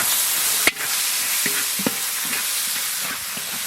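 Cumin, coriander, turmeric and dried chilli sizzle loudly in a hot pan, a steady close frying hiss broken by a sharp clack and a few scraping stirs.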